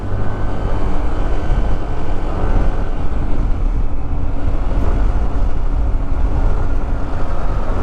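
Trucks on a hilly bypass road make a loud, steady engine roar and rumble that continues without a break, close by and with no voices.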